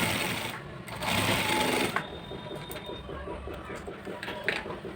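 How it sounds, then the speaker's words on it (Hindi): A sewing machine double-stitches a seam on palazzo pants, its needle chattering in quick, regular bursts close up, with a brief pause near the start before the stitching runs steadily on. "तो इसकी हम डबल सिलाई करेंगे।"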